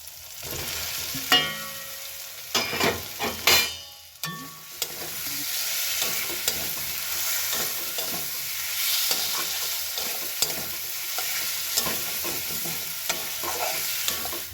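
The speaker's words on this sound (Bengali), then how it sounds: "এবার আমি এখন কষাতে থাকবো, ভালো করে কষিয়ে নেব। এই স্টেজে আলুগুলো দিয়ে দেব।" Spiced masala with potatoes sautés in a pan, a steady frying sizzle broken by clattering spatula scrapes and stirring knocks, louder in the first few seconds, then settling into a continuous hiss.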